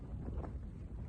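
Wind gusts and rumbles around a Terra Nova Pioneer Compac tent pitched at Sharp Tor on Bodmin Moor, a low, steady buffeting roar, faint and muffled with no talk.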